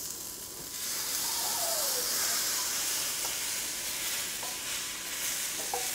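Stir-fry vegetables with minced ginger sizzle loudly in a hot pan after liquid is added, a steady hissing burst of steam that starts abruptly and continues without talk.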